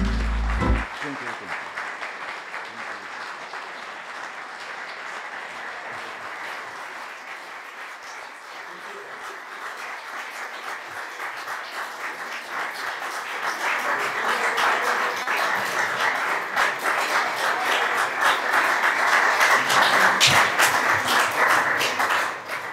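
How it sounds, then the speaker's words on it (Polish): Audience applause for performing artists at a Poznań county council session, sustained steady clapping from a crowd that swells louder toward the end. "dla artystów to te oklaski to jest chyba największa nagroda"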